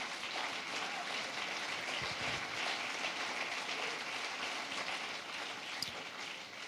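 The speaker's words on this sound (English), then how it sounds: "Clap for that one." Audience applause at a keynote event featuring Michelle Obama, a steady, dense wash of many hands clapping throughout, loud and sustained without talk.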